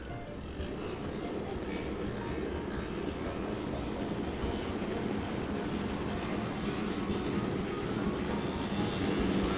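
A steady mechanical rumble and hiss runs continuously at an even level, like a small steam engine chugging along without pause: an OO gauge model of an LB&SCR C2 class 0-6-0 steam locomotive running.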